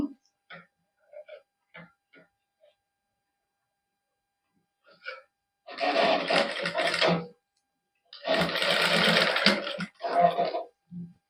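Sewing machine stitching the neckline of a cotton suit, two short rattling runs of rapid stitching, close and fairly loud, preceded by scattered small clicks and handling noises.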